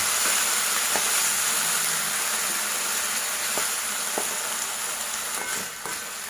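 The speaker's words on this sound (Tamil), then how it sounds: "இது நல்லா வெங்காயம் பச்சை மிளகாயெல்லாம் எல்லா பக்கமும் நல்லா பரட்டி விட்டுக்கலாம்." Onions and green chillies stir-frying in a pan for a Tamil vazhakkai (raw banana) poriyal, a steady close sizzle and hiss throughout with a few faint clicks of stirring, no voices.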